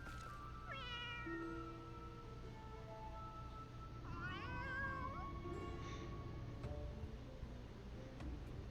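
Two cats in the Final Fantasy XIV video game meow in long, drawn-out wavering calls, several separate meows spread over the span, clear and fairly close over steady game background ambience.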